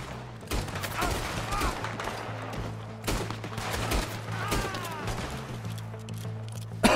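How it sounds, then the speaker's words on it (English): Gunfire rings out in Red Dead Redemption 2, a rapid series of sharp cracking shots scattered across a few seconds over a steady low hum and busy game ambience. "Those were terrible shots."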